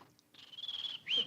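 Someone imitates bird chirping with a thin, high whistled warble that holds steady and then rises into a brief squeaky flourish, faint and alone with no talking.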